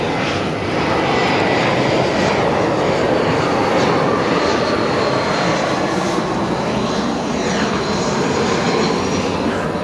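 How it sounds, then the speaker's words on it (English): A propeller airplane flies overhead, its loud engine drone steady and broadband for about ten seconds, swelling and shifting slightly in pitch as it passes, with no voices. "Here comes another airplane."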